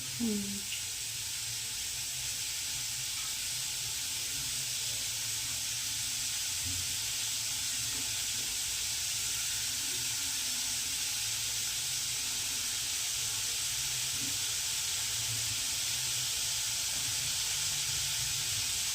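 Eggplant roasting over an open fire for baingan bharta, a steady close sizzle and hiss with faint crackles running throughout, low background voices now and then.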